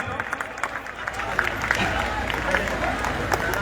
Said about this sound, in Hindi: जोरदार तालियों से सम्मान करें।